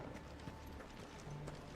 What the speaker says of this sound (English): The dude on the horse was Thor.